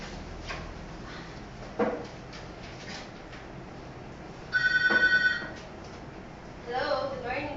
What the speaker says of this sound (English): At home scenario, Marites will call the customer service.